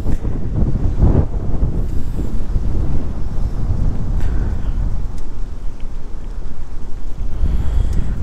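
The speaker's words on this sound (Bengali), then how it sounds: "এখানে কিন্তু বাতাসটা সেই সুন্দর, একদম সাই সাই করে বাতাস লাগতেছে গায়ে" Strong wind gusts at a riverside, buffeting the microphone in loud, low rumbling bursts that rise and fall continuously, with no talking.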